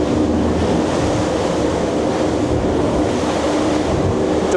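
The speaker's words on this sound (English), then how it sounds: "Okay, so I'm going to come off the power a little bit there and into these waves. Here's a couple of nice steep ones." A Grady White 386 Canyon offshore boat with triple 450 hp Yamaha outboards drives into steep ocean waves, giving a steady, loud roar of rushing water and wind buffeting with no distinct breaks.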